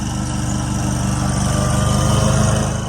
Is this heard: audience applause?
no